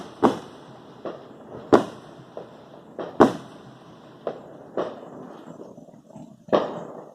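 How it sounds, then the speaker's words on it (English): Distant Fourth of July fireworks on a smoky night: about eight irregular sharp bangs and pops with faint crackling and quiet gaps between them, far off and moderately soft. "it's just crackles, bangs"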